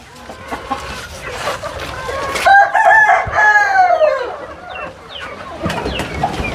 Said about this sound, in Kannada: ಸರ್ ಬನ್ನಿ ನೋಡಿ ಕೋಳಿ.